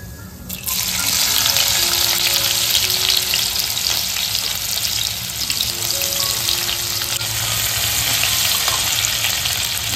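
One spoonful of cumin seeds sizzles steadily in hot oil in a kadhai, a loud, continuous frying hiss that starts abruptly and holds for the full stretch.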